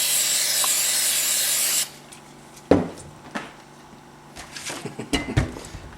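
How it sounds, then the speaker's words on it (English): Brake cleaner sprayed on Ski-Doo REV snowmobile clutch rollers, a loud steady hiss for about two seconds, then quiet with several sharp knocks and rubbing handling sounds nearby. "and we'll give her a little brake clean."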